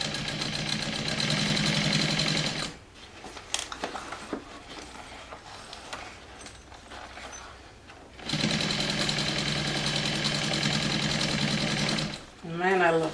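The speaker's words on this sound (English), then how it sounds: "I'm top stitching, holding my bag really weirdly on the machine" A sewing machine top-stitches a blue cork messenger bag, running loud and steady in two long bursts. Quieter handling noises fill the pause between them, and a brief whirring stop comes at the very end.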